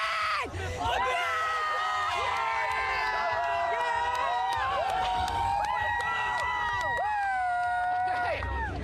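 UCF fans in a crowd whooping and cheering loudly up close, with shouting voices and sustained yells layered over one another throughout.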